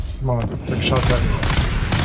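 Gunfire aimed at the player in the video game Dune Awakening, a dense run of rapid shots and impacts filling the whole stretch, loud and close, with a voice briefly heard among the firing.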